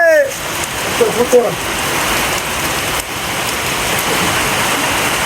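Steady heavy rain pouring onto surfaces close by, a dense continuous roar of drops, with a brief voice-like sound near the start.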